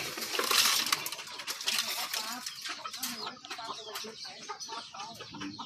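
Chickens clucking at a house where birds and poultry are kept, with soft clucks and scratching amid some metallic clinks and faint background voices.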